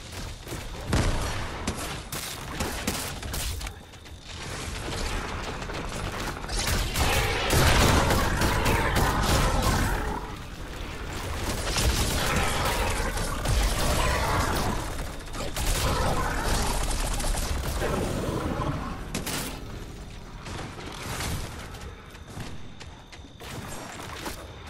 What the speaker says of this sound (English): I just upgraded to a green sideways minigun.